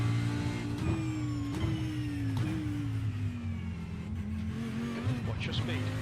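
An Audi GT3 race car engine in iRacing, heard close and loud as a steady, rasping drone; the revs climb and drop back in repeated gearshift steps, with faint voice under it.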